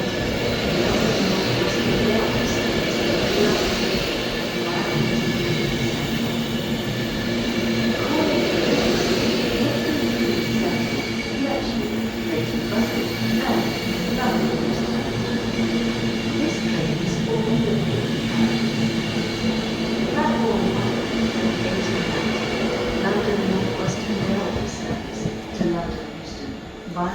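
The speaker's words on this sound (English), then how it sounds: "The next train at platform 1 is leaving London." A train pulls out of platform 1 at a London terminal, a steady loud rumble and rolling drone lasting throughout, with people talking faintly underneath.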